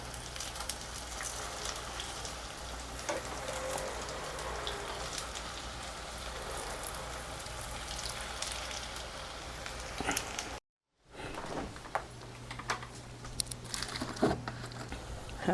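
Fasting-style potato tikki shallow-fry in a pan until reddish on both sides, making a quiet, steady crackling sizzle that pauses briefly before resuming with scattered pops.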